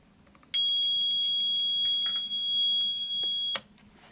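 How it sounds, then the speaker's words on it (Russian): An RKSB-104 radiation dosimeter's alarm sounds as a single shrill, continuous electronic beep, loud and close, holding steady for about three seconds before cutting off abruptly in a quiet room. "дозиметр будет пищать"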